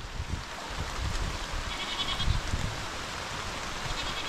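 Goats being herded on a farm bleat in short, scattered calls over steady outdoor rustle and low background noise, with no talk.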